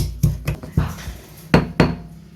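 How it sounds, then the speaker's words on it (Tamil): Cloves, cinnamon and stone flower are pounded in a mortar in six sharp, close knocks at an uneven pace, hard and percussive, with no talking. "மூணு கிராம்பு கொஞ்சமாக பட்டை கொஞ்சம் கல்பாசி இப்போ இதெல்லாம் நல்லா இடித்து எடுத்துக்கலாம்"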